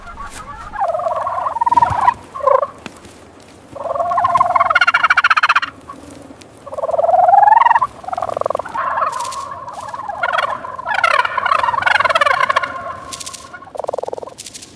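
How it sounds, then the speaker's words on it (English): Turkeys gobble loudly in repeated rolling bursts as hundreds are herded into a barn on a large U.S. pasture farm in late afternoon, the calls overlapping and close with short gaps between. "In the late afternoon, hundreds of turkeys will be herded into the barn to rest and avoid predators."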